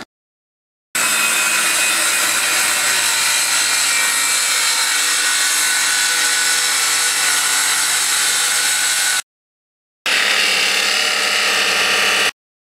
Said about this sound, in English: I'll get Kyle on the saw